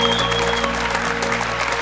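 Studio audience at a game show applauds in a dense, continuous wash of clapping, loud and steady throughout, with a faint tonal hum underneath.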